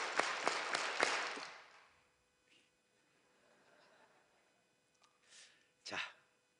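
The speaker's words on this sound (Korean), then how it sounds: "우리 박수 한번 10번 힘차게 온몸이 울리도록" A church congregation claps hands in unison, a handful of loud, sharp, evenly spaced claps that quickly die away into faint murmuring and a few scattered sounds.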